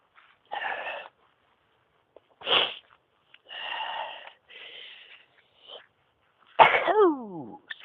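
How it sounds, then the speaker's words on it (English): A man sneezes and coughs in a series of sharp, close bursts separated by short silences, ending with a wheezy, strained exhale. "I've been sneezing a lot today."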